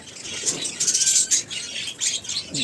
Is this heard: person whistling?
no